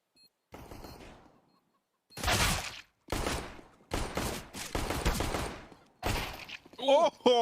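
Gunfire in CS:GO on the Inferno map during a pro match: several loud bursts of rifle shots with short silent gaps between them, and a commentator's voice near the end.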